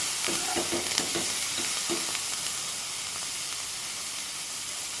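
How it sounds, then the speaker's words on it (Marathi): Green chilies frying in a pan with salt, a loud continuous hiss and sizzle with a few stirring clatters early on, close and alone without talk. "मीठ टाकलं की भाजून घ्यायचं पटापट."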